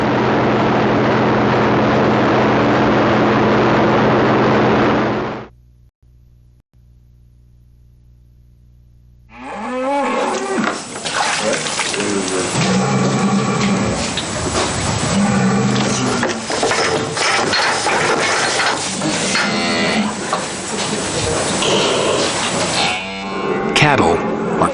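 Cattle moo loudly and close over heavy clanking machinery and gear noise in a livestock facility, the calls breaking out repeatedly through a dense mechanical din after a brief quiet gap.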